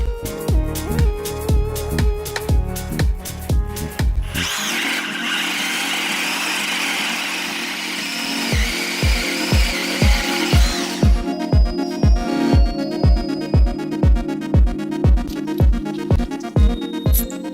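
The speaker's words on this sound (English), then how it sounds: "Now onto some timber. This is a 25mm flat drill." Ozito 18V brushless cordless drill boring into timber with a 25mm flat bit: a steady loud whine of the bit cutting through wood for several seconds, bracketed by rapid rhythmic mechanical clicking pulses, close up with no talking.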